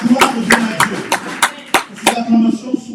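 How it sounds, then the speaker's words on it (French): A church congregation claps in a loose, uneven rhythm of sharp hand claps, fairly close, with voices calling out beneath them. "Si on est ensemble, on acclame le Seigneur très fort"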